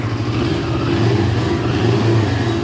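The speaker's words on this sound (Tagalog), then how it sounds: "Pwede i-rev. Unang rev, sir, ikaw muna." A 2024 CF Moto NK 400 motorcycle engine revved while warm at about 60 Celsius, a loud, steady, close mid-pitched engine roar held throughout with no talk over it.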